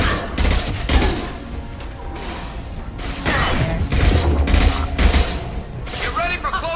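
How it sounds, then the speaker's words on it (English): Concussive shot and rapid gunfire in a Mass Effect 2 combat on Insanity difficulty, dense crackling bursts and mechanical clatter with heavy thumps, loud and continuous beneath in-game voices. "Firing concussive shot!"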